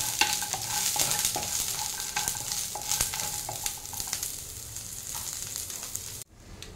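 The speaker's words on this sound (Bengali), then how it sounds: "তো আমি করলা আর বড়িটা এবার তুলে রাখছি, আমার অল্প ভাজা হয়ে গেছে।" Bitter gourd and lentil bori frying in oil in a pan, a steady close sizzle with scattered stirring clicks and scrapes, cutting off abruptly near the end.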